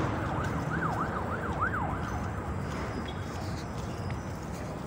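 A passing police car's siren whoops up and down over a constant traffic rumble in Jefferson County, dying out after a couple of seconds.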